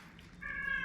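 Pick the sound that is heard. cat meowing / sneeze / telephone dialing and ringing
cat meowing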